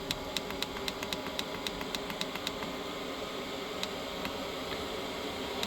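A diesel heater struggling to run, a steady rushing drone of fan and combustion with faint low rumble, broken by sharp irregular ticks and clicks in the first half and a few more later.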